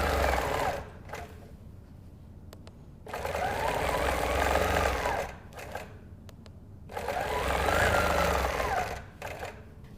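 Sewing machine quilting with a hopping foot guided along a ruler, running in three close, steady bursts separated by brief pauses and light handling sounds.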